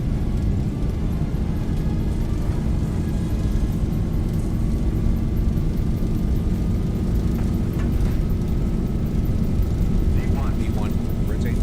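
An airliner rolls down Stansted runway 22 for takeoff, its engines at full power in a loud, unbroken roar heard from inside, with a faint rising whine and no talk.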